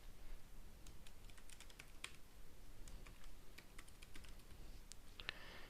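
Soft keystrokes tap on a computer keyboard, a quiet, irregular run of clicks close by with a faint hum behind them and no voices.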